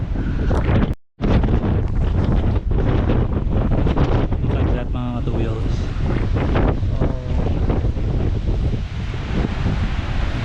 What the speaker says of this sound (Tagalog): laki oh lalakas ng alon